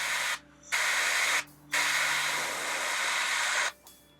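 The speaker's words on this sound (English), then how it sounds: "spray those same colors on his helmet from the top" Airbrush or spray paint hissing onto a miniature's helmet for an Eldar Skyrunner model, three steady bursts separated by short pauses, close and alone.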